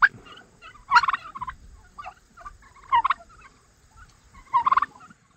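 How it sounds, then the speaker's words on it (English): Turkeys gobble in three distinct bursts spaced a couple of seconds apart, fairly close, with quieter clucks and rustling between. "I love listening to the turkey noises."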